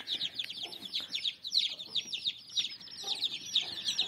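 Chicks hatched from an incubator, about six days old, peep and chirp in rapid high-pitched bursts, a near and constant chorus with a few soft clucks in between.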